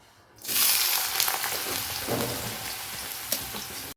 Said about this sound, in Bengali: অল্প মতোই আলু ভাজা করলাম জানেন